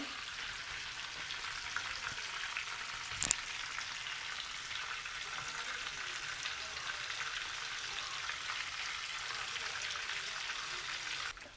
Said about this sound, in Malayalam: അപ്പോൾ നമ്മുടെ ചിക്കൻ ഫ്രൈ നന്നായിട്ട് ഫ്രൈ ചെയ്ത് വന്നിട്ടുണ്ട്.